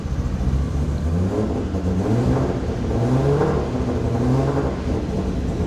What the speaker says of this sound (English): Go ahead and give it some gas.